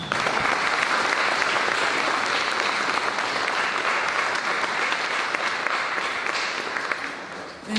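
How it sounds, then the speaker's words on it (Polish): Steady, dense applause from a concert audience at the Sarzyńska Jesień autumn music event, honoring all the performers, sustained and even for several seconds before fading at the end. "brawa od Państwa dla wszystkich wykonawców"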